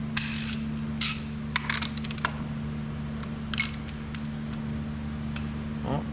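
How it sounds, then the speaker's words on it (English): A 30 mm nut being worked off the Cummins P7100 injection pump, with a few sharp metallic clicks and ratchet-like bursts over a steady low engine hum. "What we're going to do here is we're going to pull this nut off."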